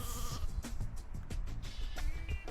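Sheep bleat repeatedly in the PlayStation game Sheep Dog 'n' Wolf, loud quavering cries over busy game music and sound effects.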